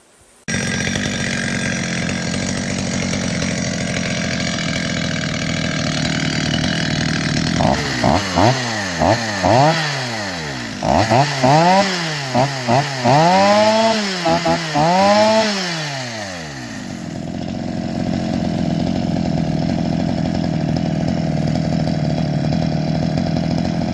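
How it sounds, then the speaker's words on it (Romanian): A Stihl 210 chainsaw runs loud and close, its engine revving repeatedly in rising and falling sweeps as it cuts through wood, then settling back to a steady idle. "Cam asta este rezultatul, oameni buni, la drujba 210, stil 210 la care am lucrat."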